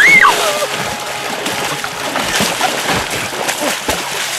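Swimmer thrashing through icy winter water in an ice-swimming race, a steady churn of splashes and sloshing with sharper bursts, loud and close throughout.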